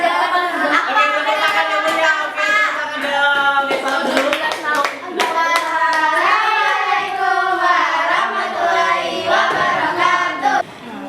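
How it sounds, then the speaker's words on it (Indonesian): Children in a classroom clapping together, rhythmic hand claps mixed with children's voices chanting or calling out over about ten seconds. "Oke, tepuk tangan dong."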